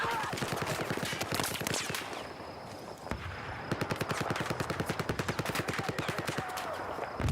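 Rapid bursts of automatic gunfire crackle through a Battlefield-style war game, dense repeated shots that break briefly and resume in a steady rattling stream, with faint voices in the background.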